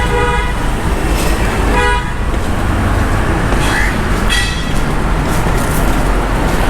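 Steady road traffic rumbles close by as vehicles pass along a quieter side road, with a brief horn toot partway through.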